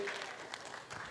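Audience applause at a corporate award ceremony for 2021 top MVP managers, a short burst of steady clapping from the crowd after winners are thanked on stage, fairly faint and continuous throughout.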